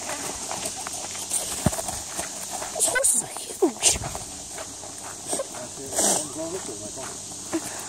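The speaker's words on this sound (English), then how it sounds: "There's horses." Hooves clip-clopping at a slow walking pace outdoors, with people chatting over them and insects buzzing in the background.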